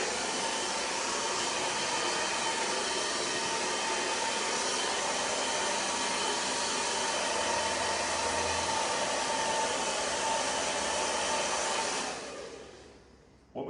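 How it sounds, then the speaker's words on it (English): A handheld hair dryer blows loudly and steadily up close in a hair salon during a blunt bob styling, a broad constant whoosh that cuts off near the end. "please excuse the additional noise here at the head dryer."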